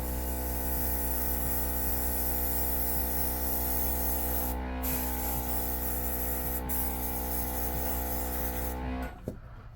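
An airbrush sprays acrylic nail paint in a steady, even hiss with a constant compressor hum beneath, then stops abruptly near the end with a small click.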